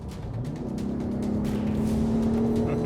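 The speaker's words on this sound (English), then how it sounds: "this is a valved exhaust, so it's a little bit quiet inside, but outside it sounds really good" A steady, throaty engine drone from a Ford F-150 Raptor pickup truck's valved exhaust in sport mode holds at an even pitch, close and fairly loud, with no talking.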